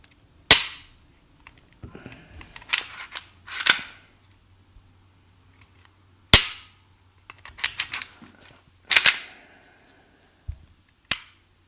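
Sharp, dry clicks from a CZ P-10 F pistol's trigger resetting during dry fire, heard close and alone in a few spaced bursts of one to three clicks with quiet gaps between.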